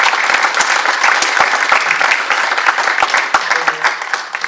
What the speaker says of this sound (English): want to join you in a round of applause for them tonight